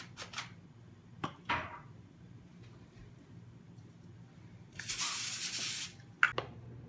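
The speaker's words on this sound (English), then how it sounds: "spray it with a non-stick spray" A steady hiss of non-stick cooking spray onto a foil-lined pan lasts about a second, surrounded by quiet clicks and light handling noises.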